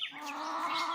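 Chickens cluck and chatter nearby on a rural smallholding in Exu, Pernambuco, at daybreak while being fed, a steady busy flock sound with no talking.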